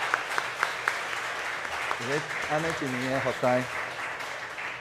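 A congregation applauds during a Sunday morning church service, with steady dense clapping throughout while a voice speaks over the middle part.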